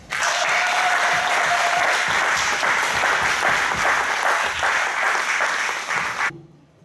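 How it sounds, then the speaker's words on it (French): A congregation applauding at a baptism service in France: loud, sustained clapping fills the room for several seconds, then stops abruptly, leaving a quiet tail. "Nous pouvons l'acclamer"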